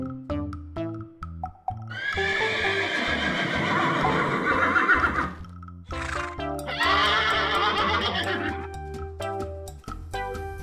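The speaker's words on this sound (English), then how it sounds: "This is a horse." A horse neighs loudly in two long whinnies, with shorter snorts and clip-clop hoofbeats between them, set over light background music and no talking.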